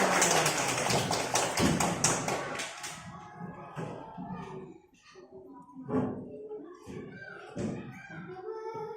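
Schoolchildren in a fifth-grade classroom clap their hands together on cue, a loud burst of rapid clapping that fades after a few seconds into scattered taps, thumps and the murmur of children talking.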